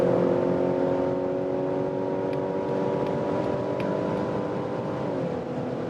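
Mazda CX-60 accelerating hard on the German Autobahn at high speed, engine tone climbing steadily under road and wind roar, then easing off near the end.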